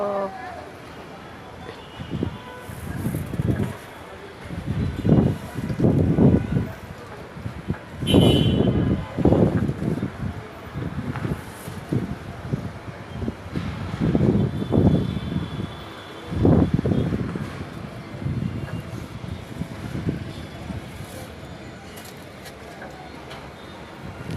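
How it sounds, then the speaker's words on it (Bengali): Gusts of hot, dusty wind buffet the microphone in repeated surges, loud and rumbling, with a voice talking faintly underneath. "এত বাতাস আমার শহরে"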